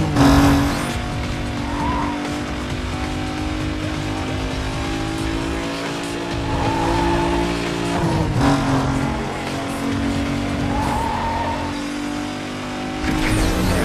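Racing car engine roaring steadily with repeated tire squeals and skids, a Mitsubishi Eclipse driven in the video game Need for Speed Most Wanted (2005), loud and continuous with no talking.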